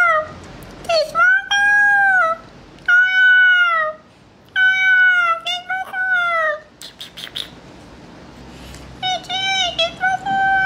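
Several cats meow, loud and close, in a series of drawn-out tonal calls with short gaps between them. A voice speaks briefly between the meows.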